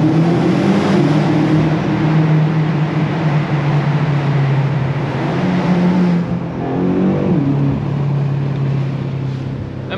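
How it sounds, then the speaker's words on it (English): A 2022 BMW M5 Competition LCI sedan braking and then accelerating inside a tunnel, heard from within the car as a loud, continuous engine drone. The pitch dips, then rises again as the throttle comes back on. "We have a little tunnel here, so let's just brake and give it some throttle."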